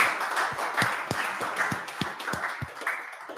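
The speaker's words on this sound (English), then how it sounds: "please give her a warm applause from the beginning" Scattered hand claps from a workshop audience welcoming a presenter, sparse and uneven rather than a full ovation, moderately close in a room with a soft background hum.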